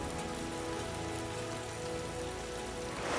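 Heavy rain pours down in the Amazon basin as a dense, steady hiss of drops striking surfaces, loud and unbroken, with no voices.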